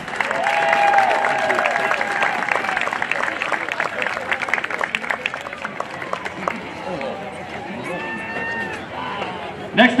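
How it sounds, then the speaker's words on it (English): Applause and crowd noise fill a high school football stadium on Senior Night, honoring the senior football team; steady clapping runs under a PA announcer's voice throughout. "Let's have another round of applause for our senior football team."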